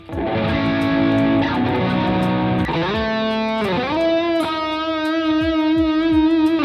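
Distorted electric guitar plays a sustained, effects-laden Lydian scale run, notes sliding and ringing out over steady chords, loud and continuous.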